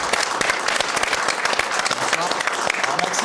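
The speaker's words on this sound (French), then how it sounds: "Je vous demande de l'applaudir très fort." A studio audience at a French talk show applauds a guest warmly, dense, steady clapping filling the whole stretch with no letup.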